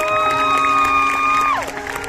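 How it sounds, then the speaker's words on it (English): A concert audience at a show at Expo 2020 on Valentine's Day applauds steadily for about a second and a half, mixed with sustained keyboard tones that slide down and fade near the end. "Guys, give him a round of applause!"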